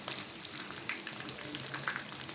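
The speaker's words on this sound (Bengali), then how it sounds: "এইভাবে আমি বাদামি কালার করে ভেজে নিব।" Shrimp frying in oil until brown: a continuous, dense crackling sizzle, close and even throughout with no talking.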